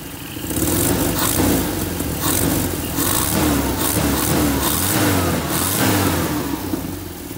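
A Toyota 4K engine with a freshly tuned carburetor runs loud and close, holding a steady, slightly rough idle with mild revving swells throughout and no speech.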